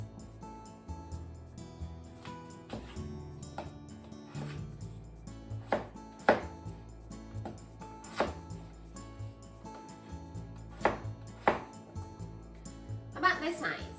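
A knife chops potatoes into chunks on a cutting board in a home kitchen, with close, irregular knocks and clicks spread through the stretch and some light clatter between strikes.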